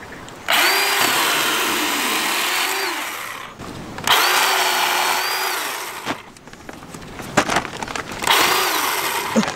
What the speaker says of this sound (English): Can't believe you're filming me doing the chainsaw.